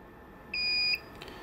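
A Fike TwinFlex Pro fire alarm panel gives a single short, steady electronic tone lasting about half a second, clear and close against a quiet room.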